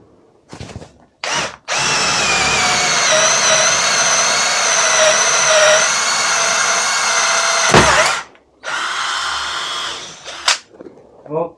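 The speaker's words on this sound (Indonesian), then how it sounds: "Dan ini posisi di drilling ya, 8 mili lanjut masih kuat." A DongCheng power drill bores with an 8 mm bit, its motor whining loudly and steadily for several seconds before cutting off, followed by shorter bursts of running and brief pauses.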